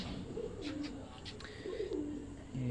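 A shermila (shy) breed pigeon coos on a rooftop, low rolling coos repeating close by over a steady background hum, with faint voices nearby.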